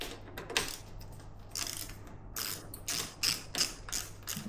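A socket wrench ratchets in short clicking bursts while working on a Honda CB125R motorcycle, with repeated quick metallic clicks separated by brief pauses, fairly close and alone.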